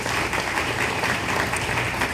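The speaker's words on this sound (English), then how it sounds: "Give her a big round of applause." Steady, dense audience applause at a kindergarten graduation ceremony, a continuous wash of clapping from a school crowd with no pause.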